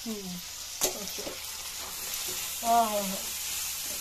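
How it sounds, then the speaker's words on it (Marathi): Tomatoes tossed into a hot pan and stirred as they fry, a steady sizzle with a sharp clack of utensil against the pan, while someone talks over it. "लाल पण टमाटर मस्त पैकी ते पण टाकून हलवून घ्यायचं त्याला"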